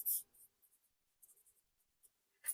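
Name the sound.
Paper Studio brush marker coloring in a planner page corner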